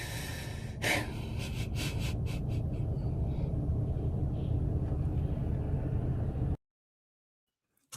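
A woman breathes heavily in played-back footage, loud, rough, rapid breaths with a sharp gasp near the start, running steadily before cutting off abruptly into silence.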